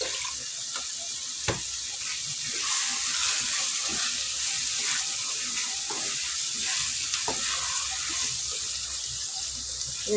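Tomatoes and paste sizzle steadily in a pan for a dried-fish thokku, a constant close frying hiss with occasional stirring scrapes and no talk.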